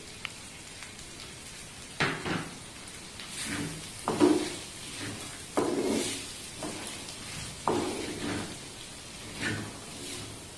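Prawn pickle mixture stirred in a pan, with a steady soft sizzle and periodic scraping strokes every couple of seconds, moderately close and alone.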